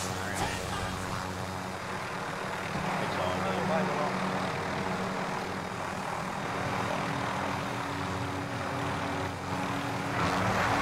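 Helicopter in Call of Duty Warzone, a steady droning rotor and engine roar held loud and close throughout, with game noise mixed in.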